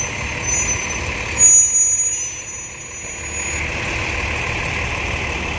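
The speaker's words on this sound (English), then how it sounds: "All the transport trucks and the buses and that are constantly turning here." Transport trucks and buses turning at a busy corner on King Edward Avenue at rush hour, a steady heavy engine rumble with a thin high squeal, swelling briefly then holding level, no talk.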